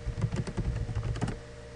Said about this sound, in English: Go into the search box and type in Daemon Tools.